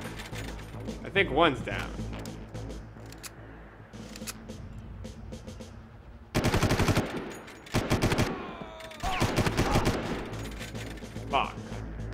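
Enemy soldiers firing guns in the video game Far Cry 1, with loud bursts of automatic fire in two clusters that break up an ongoing game soundscape while a player talks over it.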